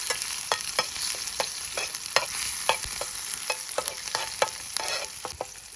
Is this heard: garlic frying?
yes